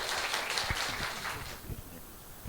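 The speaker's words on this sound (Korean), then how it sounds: "큰 박수 부탁드립니다" An audience at a book concert about the Vatican applauds warmly for an ambassador's talk, a full burst of clapping that thins out and fades over the second half.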